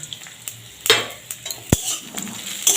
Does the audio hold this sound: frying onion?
yes